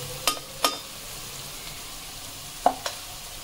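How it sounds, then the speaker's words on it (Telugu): Beans frying in a pan give a steady soft sizzle, broken by a few sharp clicks of a spoon stirring against the metal, close and without speech. "కొంచెం ఫ్రై అవ్వనివ్వండి ఇవి"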